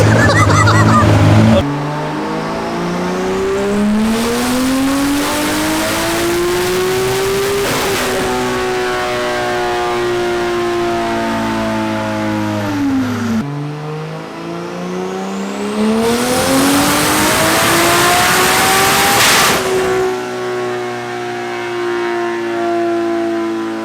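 A Nissan S14 drift car engine on a dyno, loud and close, revving up through gears in two long climbing pulls that hold near the limiter, then dropping off abruptly between and after them.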